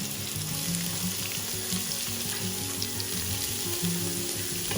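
Onions frying in a pan for dal chicken curry, a continuous close, hissing sizzle with faint bubbling and a low hum beneath, no one talking.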